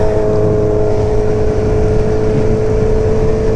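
A Yamaha R1 liter-bike motorcycle with 32,000 miles and a power commander runs loud and close, its engine holding a steady, aggressive high-rev roar without pause.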